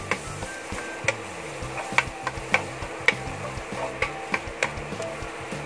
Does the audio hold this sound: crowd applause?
no